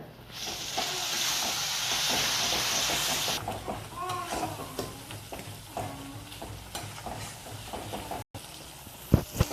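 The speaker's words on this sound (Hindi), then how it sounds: "अब डाल देंगे साथ में 3 कटे हुए टमाटर।" Chopped tomatoes hit a pan of frying masala with turmeric, salt and chilli for aloo matar, a strong hiss and sizzle that settles into softer crackling with stirring clatter.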